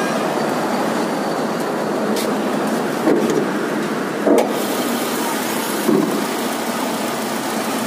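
A Toyota Camry engine idles steadily at close range, a constant low rumble with a few slight surges and no voices.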